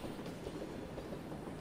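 A video-game train rolls along rails with a continuous, close, dense rumble and faint rhythmic clatter, steady throughout the short moment, with no talking.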